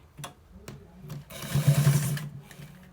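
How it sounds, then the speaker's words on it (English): Sewing machine stitching a short design down the side of a trouser leg, starting with a few separate clicks before a loud, close, steady whirring run of stitching that lasts about a second and a half. "So let's stitch it from the down to the top part, as we did the other one."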